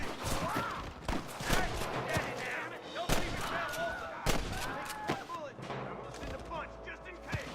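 Enemies firing guns in a shootout video game, sharp gunshots cracking irregularly over a busy game mix, with a voice talking between shots.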